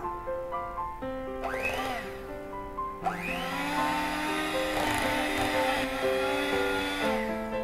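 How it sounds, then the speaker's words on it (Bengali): An electric hand beater whirs steadily through marble cake batter, its motor noise rising in a few sustained stretches over background music, with no talking. "আমি এক মিনিট ভালো মতো করে বিটার দিয়ে বিট করে নিলাম"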